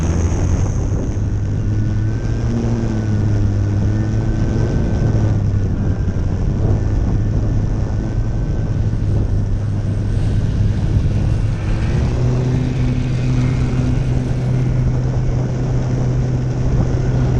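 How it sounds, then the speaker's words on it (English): An RC J3 Cub model airplane takes off westward, its propeller engine droning loud and steady close by, then rising in pitch near the end as the throttle opens. "This is the J3 Cub, ready to take off towards the west."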